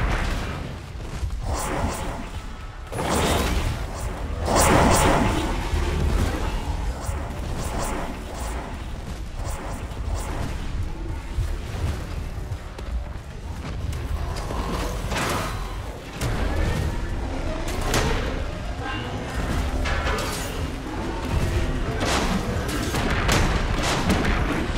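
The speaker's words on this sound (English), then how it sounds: "Enemy defensive wall destroyed." Rapid booms, crashes and blasts pound continuously as an enemy defensive wall is destroyed in a video game, a loud, dense barrage with a few whooshing bursts throughout.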